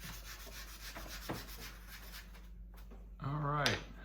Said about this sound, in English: the guys spent some time sanding both sides until they were really smooth